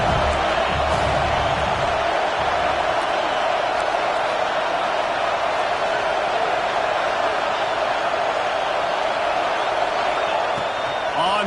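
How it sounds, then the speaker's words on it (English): A college football home crowd at a Miami vs Oregon game roars loudly and continuously, a dense, sustained wall of cheering under a commentator's voice. "how nice is it to have the home crowd going absolutely bananas"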